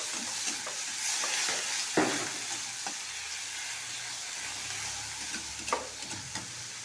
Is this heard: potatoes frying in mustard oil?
yes